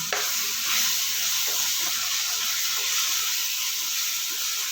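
Guava bhaji with asafoetida and salt sizzles in a pan while being stirred, a close, steady frying hiss with scraping stir strokes and no talk.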